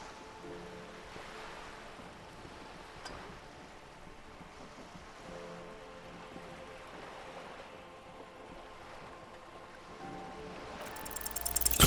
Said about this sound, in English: The waves sway the sloop slowly.